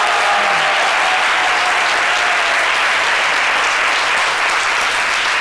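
Steady studio audience applause on a French television talk show, a dense continuous wash of clapping that holds at full strength for the whole stretch with no voices over it.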